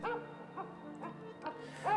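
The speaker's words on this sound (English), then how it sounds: "a dog barking." A dog barks in the surreal video game Museum of Oddities, with about five short, moderately loud barks spaced roughly half a second apart and a faint tonal background underneath.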